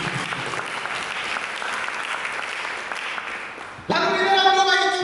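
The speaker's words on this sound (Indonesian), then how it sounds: "Mari kita berikan tepuk tangan bagi Yesus." A church congregation claps together in steady applause, a dense patter of hands for several seconds before music with a clear tonal sound comes in at the end.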